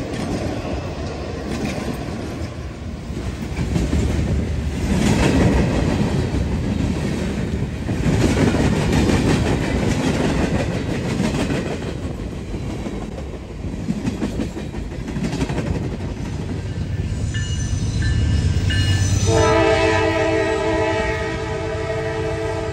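A Norfolk Southern freight train rolls past close by with a steady rumble and rattle of wheels, then its horn blasts loudly in the final seconds.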